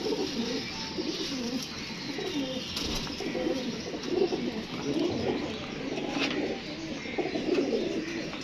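Soft, low cooing of pigeons continues steadily through a constant noisy background, with occasional faint chirps and no talking.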